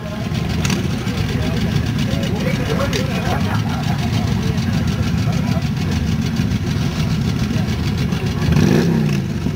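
A customised Yamaha Virago motorcycle at the Bath Pageant of Motoring rumbles steadily at idle with a deep, close engine throb and a slight rise near the end, while a voice talks over it.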